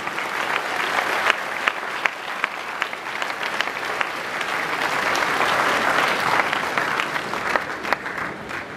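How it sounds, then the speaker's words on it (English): Applause for sword winners at a navy commissioning parade, a dense, steady wash of many hands clapping at moderate loudness, sustained for several seconds without talk. "Another round of applause for the sword winners, please."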